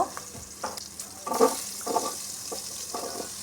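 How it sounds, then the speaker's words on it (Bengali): A pan of green chillies with bay leaf and panch phoron frying in oil, stirred with soft scraping strokes over a low, steady sizzle, a few louder clatters in between. "দিয়ে দিচ্ছি কাঁচা লঙ্কা একটু নেড়ে চেড়ে সবজিগুলোকে দিয়ে দিব"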